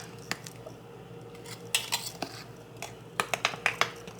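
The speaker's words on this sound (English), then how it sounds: "Let me wash my spoon." A spoon being washed at a kitchen sink: faint running water under scattered light metallic clinks and taps, a few isolated strikes followed by a quick cluster of clattering near the end.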